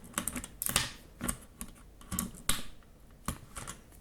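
Plastic automotive trim tool prying keycaps off a keyboard: a series of sharp, close clicks and snaps at irregular intervals, with quieter scraping between them and no voices.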